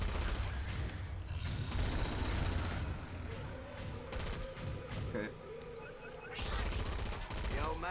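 Gunfire rattles in Killing Floor 2 during a hard survival match, rapid bursts of shots over dense game noise with a muffled voice speaking underneath.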